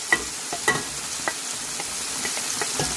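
Mushrooms fry in a pan for seafood pasta, a steady bright sizzle with a few light stirring clicks scattered through, close and fairly loud, with no talking.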